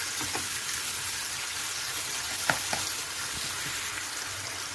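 Spiced eggplant filling with thyme, cumin, red pepper flakes and mint being stirred in a pan on the stove for Turkish karnıyarık, a steady close sizzle of frying with a few soft scraping knocks of the spoon.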